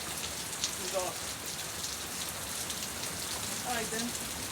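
Rain falls steadily on outdoor surfaces around compost heaps, a dense continuous patter of drops with scattered faint bird-like chirps in the background.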